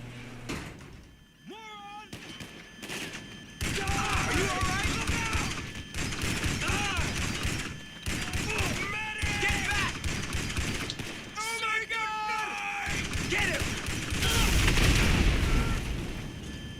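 Shotgun blasts ring out in the game GTA 5 Online, several heavy booms spread through a running firefight, with someone talking over most of the shots.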